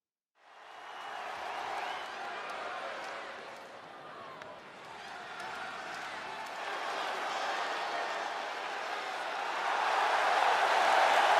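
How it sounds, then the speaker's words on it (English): Roaring WWE wrestling arena crowd, a broad sustained wall of cheering that swells after a brief dip and grows louder toward the end, with no distinct voices over it. "I can barely hear you, Michael. That's how loud this crowd is right now."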